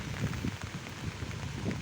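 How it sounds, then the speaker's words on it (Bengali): Heavy rain falls over flooded village paddy fields with strong wind, a short, soft, continuous wash of drops. "বৃষ্টি এখনও শেষ হয় নাই মানে গড়ি গড়ি পড়তেছে"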